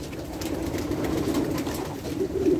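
Low rolling coos from a loft of imported German breeding pigeons, blue and Ardennes-type birds, sound continuously from several nearby birds, overlapping in a soft steady chorus with no voices.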